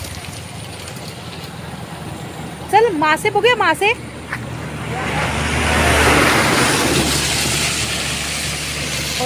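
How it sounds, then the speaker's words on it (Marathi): A large vehicle rumbles past near a river bridge, its low engine noise swelling and fading in the second half after someone speaks briefly. "मोठी गाडी आली आहे"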